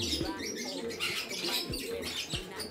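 Pigeons give soft, low coos, four or five short calls in a loose rhythm, close by and fairly quiet under faint background noise.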